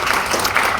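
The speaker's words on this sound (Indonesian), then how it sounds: "Boleh tepuk tangan lebih meriah lagi." Steady applause from a crowd, dense and continuous clapping throughout with no voices standing out.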